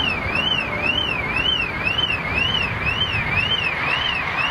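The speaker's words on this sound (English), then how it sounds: "There's the alarm." A car alarm wails in a steady rising-and-falling sweep, repeating about once per half second over constant loud background rumble, heard from nearby outdoors at an airport viewing spot.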